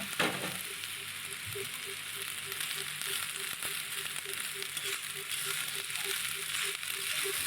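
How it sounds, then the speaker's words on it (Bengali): Cooked rice goes into a hot wok for Chinese mixed fried rice, landing with a thump before a steady close sizzle, while a faint regular ticking repeats underneath and no one speaks. "আর এখন এইখানে ভাতগুলো দিয়ে দিচ্ছি যতটা আমার কড়াইতে ধরে আমি ততটাই দেব"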